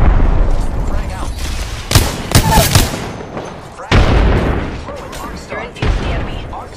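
A frag grenade detonates in Apex Legends on the Kings Canyon map, giving loud broadband booms, a cluster of blasts around two seconds in and another sharp hit later, set amid continuous rattling in-game gunfire.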